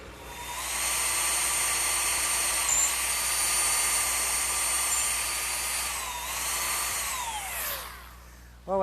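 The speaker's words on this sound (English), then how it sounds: "to smooth out this angled cut, I'm just going to do it freehand, just up against the drum" Drum sander smoothing an angled wood cut held freehand against the drum for an Adirondack chair: loud, steady high-pitched motor whine with grinding contact, the pitch dipping as the wood is pressed, then spinning down near the end, with no talk.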